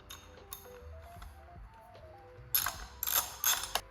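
A ratchet wrench tightens the light bar mounting bolts on a Tesla Cybertruck, giving quick clicking bursts near the end after a quieter stretch. It is close and has no talking.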